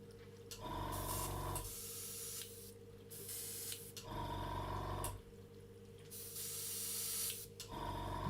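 Airbrush spraying paint inside a spray booth, fitted with a 0.3 nozzle at raised air pressure: steady loud hissing bursts of about two to three seconds each, separated by short pauses where the compressor hum remains.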